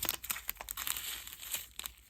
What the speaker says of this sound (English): So let's grab my scissors so I can take these out. Just cut a little corner.